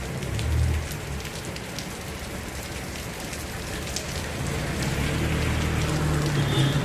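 Sudden heavy rain pours steadily in Los Baños, Laguna, a dense, close hiss of drops on surfaces with a low rumble beneath, growing slightly heavier toward the end.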